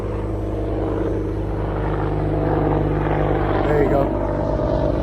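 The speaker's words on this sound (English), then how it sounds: "Man, we got another one of these. Apache helicopters flying over." Apache helicopters fly over a hiking trail, their rotor drone a steady low rumble with a faint throbbing beat that holds for several seconds while someone talks close by.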